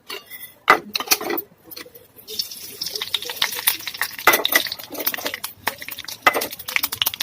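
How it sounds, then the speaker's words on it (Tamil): Mustard seeds crackle and pop in hot oil while tempering for a South Indian dal kootu, a dense run of sharp spluttering bursts with some stirring clinks throughout. "கடுகு பொரியுது"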